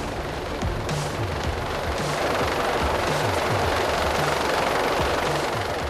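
A rescue helicopter hovers overhead during a mountain hoist rescue, its rotor wash producing a loud, steady roar with rhythmic low chopping throughout.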